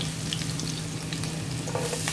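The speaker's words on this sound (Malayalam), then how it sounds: "വൈറ്റ് ഒനിയൻ കൂടി ചേർത്തിട്ട് നന്നായിട്ട് ഇളക്കി കൊടുക്കാം." White onion being stirred into lamb mince frying in a pan, a steady close sizzle with faint stirring scrapes, briefly heard alone.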